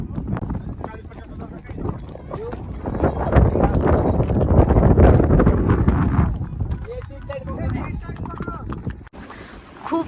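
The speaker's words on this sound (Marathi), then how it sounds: "मेरे घोड़े का नाम सुल्तान है. चल चल चल चल." A horse walking on a mountain trail along a river, its hooves clip-clopping steadily at close range under wind noise, while a rider talks and urges it on.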